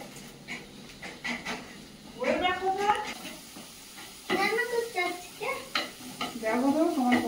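Fish sizzles softly in a pan on a gas stove with occasional stirring, while people talk over the cooking.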